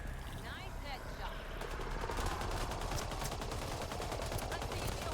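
Video game gunfire in a space exploration setting, dense rapid shots and bursts over a continuous noisy background, with voices briefly present.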